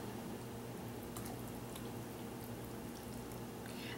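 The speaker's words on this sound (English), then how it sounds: "We're going to pour it into our glass." A thick dandelion, strawberry and banana green smoothie is poured into a glass, giving a faint, soft, squishy liquid slosh with a few drippy splats over a steady low background hum.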